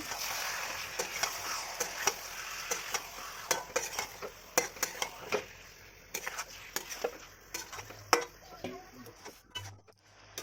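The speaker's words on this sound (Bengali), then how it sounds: "পরে মাংসটা দিয়ে ভালো করে কষাবো" Chicken meat with spices is stirred and sautéed in a pan: repeated sharp scraping and clinking spoon strokes over a soft, continuous sizzle, heard close.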